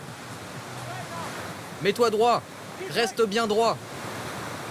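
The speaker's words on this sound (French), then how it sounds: "Il y a aussi une piscine à vagues pour faire du surf." A surf wave pool aboard a cruise ship keeps up a steady, broad rush of churning water throughout, while someone talks over it in two short bursts.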